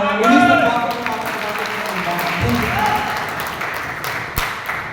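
An audience at a direct-selling business event claps loudly in a dense, steady wave of applause that slowly fades, with a voice speaking over it.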